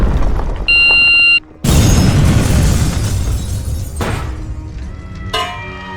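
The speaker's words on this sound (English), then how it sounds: "2 explosions occurred only a few moments ago at the DNC headquarters" Explosions at a political party headquarters in Washington, D.C., heard as sudden loud booming blasts with crackling debris noise, one striking hard and a second burst following a few seconds later.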